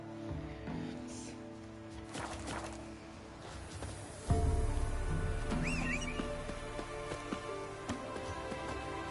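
Roach, Geralt's horse in the video game The Witcher 3, gives a brief whinny amid clip-clopping hooves and game ambience with faint rain-like patter, while someone talks briefly.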